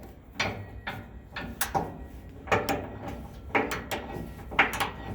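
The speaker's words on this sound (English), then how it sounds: "So I'm gonna start taking it off with the offset socket. I'm using this long ratchet just to make it easier." A long ratchet with an offset socket backs out a NOx sensor on a Freightliner Cascadia truck, making a string of short, sharp clicking strokes in uneven groups at close range without any talk.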